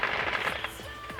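Fireworks going off outdoors in a rapid crackling burst of pops, continuous and fairly loud through the whole moment, with a faint whistle rising over them.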